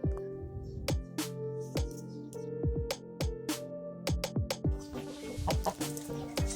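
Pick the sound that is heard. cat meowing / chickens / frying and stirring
chickens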